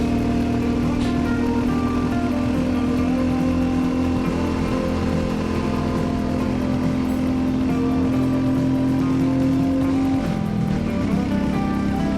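A Royal Enfield Classic 350 cruising on an open road toward Campos do Jordão, its steady engine drone and constant wind roar filling the whole stretch without a break, with a slight shift in pitch near the end.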